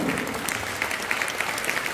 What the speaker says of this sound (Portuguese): aplauda bem forte ao nome de Jesus